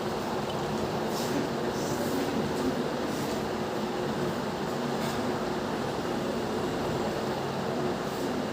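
The Archana Express train passes, heard as a loud, steady rumbling roar of rolling wheels and carriages that holds constant throughout, with faint higher clatter on top.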